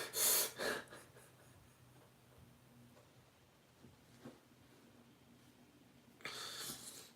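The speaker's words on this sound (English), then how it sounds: "Breathing through the mouth intensifies." Heavy breathing through the mouth comes in loud, close bursts at the start and end, with quieter breaths and near silence between.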